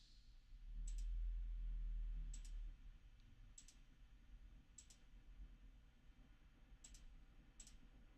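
Computer mouse clicking at a desk, a series of sharp, quiet clicks spaced about a second apart, with a brief low rumble near the start and no talking.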